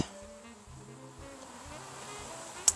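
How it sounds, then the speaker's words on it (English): Bugs in a rescued houseplant buzzing close by, a steady droning hum with pulsing rises and falls, ending in a brief sharp tick. "Okay, there are more bugs in this."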